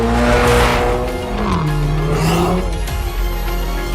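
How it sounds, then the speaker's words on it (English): A 2022 Hyundai Elantra N accelerates hard through upshifts, its loud engine note rising and briefly dipping at each gear change, with a tire-like squeal mixed in and no talking. "The N power shift minimizes torque reduction when upshifting, and the acceleration continues."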